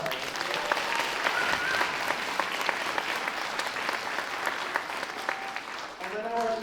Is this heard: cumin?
no